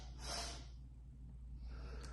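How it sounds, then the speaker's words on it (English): Two quick sharp inhales through the nose followed by an exhale through the mouth in an anxiety breathing exercise, a loud snorting intake up front, then quieter breath, close and alone. "2 quick inhales through the nose and 1 exit through the mouth"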